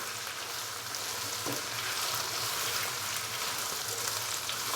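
Chicken fries in a pan with ginger-garlic paste for a white potato chicken pulao, a steady, close hiss of sizzling oil with a brief stirring scrape, continuous and alone without speech.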